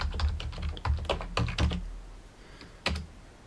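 Someone types a password on a computer keyboard while installing Linux Mint in VirtualBox: a quick run of close, crisp key clicks, a pause, then one firmer keystroke, with no talk.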